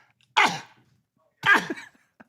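A voice imitates a woman's dry cough with two short, harsh bursts about a second apart, then a faint click, in an otherwise quiet room.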